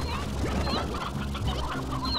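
Several chickens in the game Slime Rancher cluck repeatedly at close range, their short squawks overlapping in an uneven chatter against a low, constant background hum.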